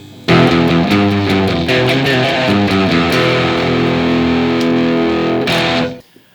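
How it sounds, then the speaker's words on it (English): A heavily distorted, boosted homemade electric guitar plays dense, gritty metal chords for several seconds, loud and saturated, before cutting off abruptly. "that is basically a bit of a dirty sound if you give it some extra boost for the metal heads"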